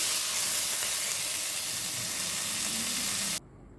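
Masala for a bendakaya (okra) curry sizzling steadily in a hot pan, a loud, dense frying hiss that holds without a break and then cuts off abruptly near the end, with no talking.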